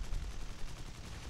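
Rapid gunfire in the War Thunder combat game, a quick run of low, booming shots that blur into a rumbling burst, moderately loud with no talking over it.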